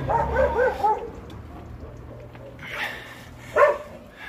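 A dog barks outdoors on a mountain road, a few short yips and barks at the start and again near the end, moderately close, with quiet gaps between.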